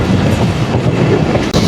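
The Mongla commuter train slows near Singia junction on the Jessore–Khulna line in Bangladesh, with a loud, close rumble of rail cars and wheels rolling steadily over the track.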